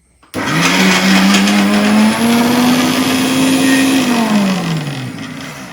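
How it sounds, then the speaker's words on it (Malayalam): A kitchen mixer grinder starts abruptly and runs loud and close, its high motor whine holding steady, then dropping in pitch near the end as the load changes. "അപ്പം ഞാൻ മിക്സി അടിക്കട്ടെ"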